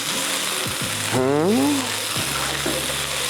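Garlic paste sizzles in a frying pan for a chicken Alfredo pizza, a steady close hiss of frying with a low hum, while a voice speaks briefly in the middle.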